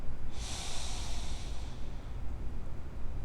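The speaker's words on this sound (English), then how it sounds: "Breathe in." One long inhale through the nose, close and airy, lasting about a second over a low background rumble.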